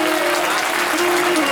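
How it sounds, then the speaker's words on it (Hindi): An audience at a Shrimad Bhagwat Katha religious discourse in Manegaon, Chhindwara, claps loudly in dense, continuous applause that fills the hall throughout. "मानेगांव वालों के लिए जोरदार ताली बजाइए"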